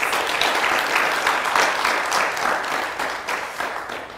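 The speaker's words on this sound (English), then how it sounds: "A round of applause for our guests." A studio audience applauds on a television health talk show, dense steady clapping that holds for several seconds before gradually thinning out.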